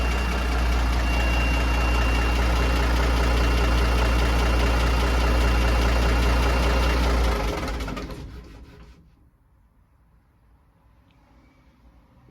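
An M923A1 military truck engine idles with a loud, steady low diesel rumble, then shuts down and fades to near silence.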